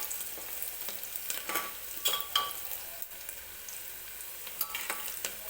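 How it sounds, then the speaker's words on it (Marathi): Sliced onion frying in oil toward golden for dal khichdi, a soft steady sizzle with scattered quiet spatula scrapes and stirs, fairly faint and close, without any voices. "हलकासा गोल्डन रंग येईपर्यंत हा कांदा जो आहे तो मी तेलामध्ये भाजून घेणार आहे"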